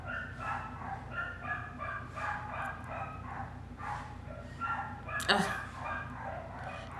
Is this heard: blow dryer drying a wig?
no